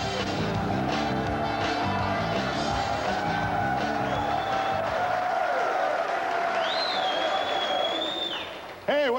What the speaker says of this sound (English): Hey, what a great crowd.